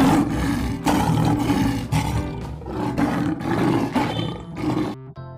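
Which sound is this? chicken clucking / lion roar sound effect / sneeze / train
lion roar sound effect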